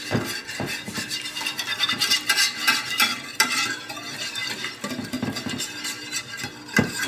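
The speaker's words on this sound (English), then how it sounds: "And then I whisk this all together." A whisk scrapes and clatters steadily around a bowl as ingredients with cayenne are mixed together, a busy, close, continuous rhythmic stirring without talk.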